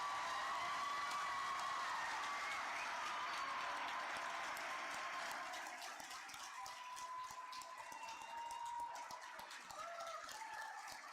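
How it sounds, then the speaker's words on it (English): Commencement crowd at Valley Forge Military Academy applauds the graduating class of 2026, sustained broad clapping from a large audience that thins into scattered, distinct claps over several seconds, with faint cheering beneath. "please join me once more in applauding the Valley Forge Military Academy"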